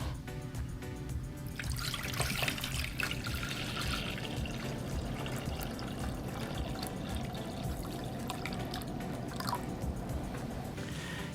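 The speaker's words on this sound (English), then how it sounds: "in a large pot, we're going to add enough water to boil the pasta" Water runs steadily into a large pot for boiling pasta, a continuous splashing pour with faint drips, close and alone without talk.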